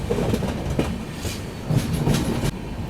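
An Indian AC express train on the Agartala–LTT Mumbai route rolls along the loop line with a close, steady rumble and repeated clickety-clack of wheels over rail joints, with no talk.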